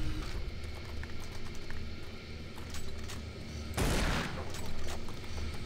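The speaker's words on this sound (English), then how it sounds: "I don't know why I'm using this damn shotgun." A shotgun fires in the video game Doom 3: one sharp, loud blast lands mid-clip over a constant dense rumble of game noise, with no voices.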